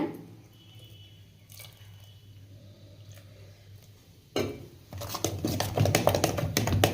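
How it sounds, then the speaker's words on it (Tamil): Water is poured into thick sorghum idli batter and stirred in. Quiet trickling and handling noises come first, then a louder burst of wet, squelching mixing strokes close by. "பாருங்கள், கொஞ்சமாக தண்ணி சேர்த்துக்கலாங்க."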